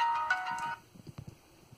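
A phone ringtone rings briefly and clearly up close, a bright repeating electronic tune that cuts off after under a second, followed by faint handling clicks and taps.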